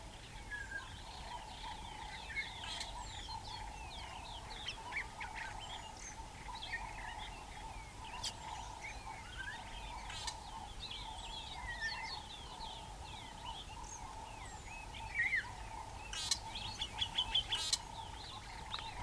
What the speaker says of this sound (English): The sound of the African bush waking up.